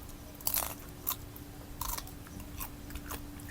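Stir-fried field crab cooked with curry powder is snapped in half and chewed, giving sharp close crunches and cracks at irregular intervals over a low steady hum, with no voices.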